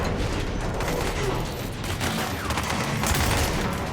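Gunfire from a weapon in the video game Control, a dense fusillade of rapid shots and mechanical clatter rolling on without pause for several seconds, loud and close.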